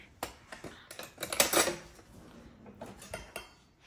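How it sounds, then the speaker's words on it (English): Metal kitchen utensils clinking and rattling as a spoon is picked out from among them, a run of close, light taps and jangles with a busier cluster near the middle. "I'm gonna grab a spoon here"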